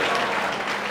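Church congregation clapping loudly at a Hindi worship service, a brief dense burst of applause from many people, steady and close throughout.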